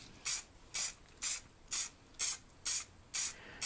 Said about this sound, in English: I take it outside to put some clear spray lacquer on the whole piece.